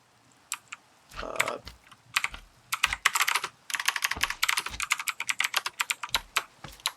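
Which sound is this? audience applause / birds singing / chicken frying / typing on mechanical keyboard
typing on mechanical keyboard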